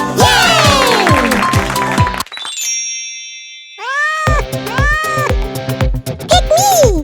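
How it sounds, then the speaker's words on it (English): A cat meows repeatedly in loud, pitched cries, broken by a short gap with a bright chime, then more meows follow in a lively, close sequence. "The cat goes meow!"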